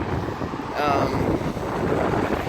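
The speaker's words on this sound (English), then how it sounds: "It's actually quite a windy day today, so most of my out of the car updates sound something like this." Heavy wind buffets a microphone outdoors on a windy day in rural Washington State, a dense low rumbling roar that persists throughout.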